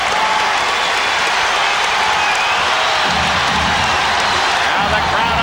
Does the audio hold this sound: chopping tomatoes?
no